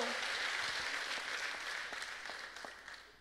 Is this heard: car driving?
no